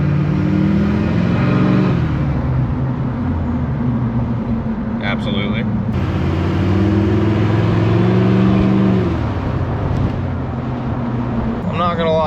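An LBZ Duramax diesel truck with a 5-inch exhaust running to a bed stack drones steadily and loudly from inside the cab, with a low rumbling idle and mild revving swells while a person talks briefly.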